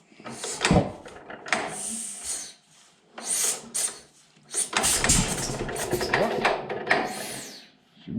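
A small gasoline engine with high-compression pistons on a lag bed planer is cranked and choked: uneven sputtering and revving bursts that catch, fade and start again, loud and close, with rasping mechanical noise between.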